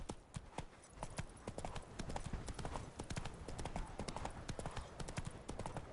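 Roach the horse from The Witcher 3 walking, with dense, steady hoof clip-clops on hard ground, close and continuous throughout, no talk.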